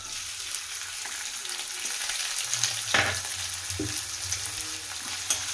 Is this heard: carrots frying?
yes